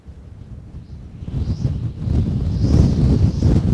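Gusty wind buffets an outdoor microphone on a cold day of cod fishing, a low rumbling roar that builds steadily louder across the clip with no voices.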